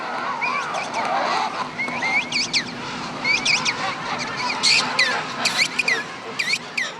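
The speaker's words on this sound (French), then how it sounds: "Si entre partenaires il faut chanter pour se reconnaître, il en est de même entre le poussin et ses parents." Seabird chick and parents trade repeated sharp calls at a colony, overlapping honking cries in irregular bursts over a steady background chatter of other birds.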